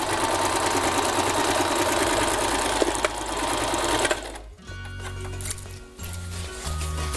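A sewing machine stitches the shoulder seam of a denim vest made from old jeans, running as a loud, steady whirring motor burst that cuts off, then resumes in shorter, lower-pitched runs with brief pauses.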